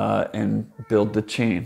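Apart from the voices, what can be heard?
pet cat meowing in the background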